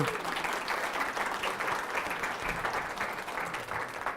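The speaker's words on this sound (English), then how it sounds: "So if we can give her a round of applause" An audience at an Anteater Leadership Academy info session applauds the associate dean of summer session, moderate continuous clapping from many hands, slightly distant and steady throughout.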